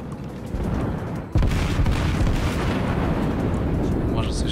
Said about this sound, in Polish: Dajmy jeszcze strzały do tego.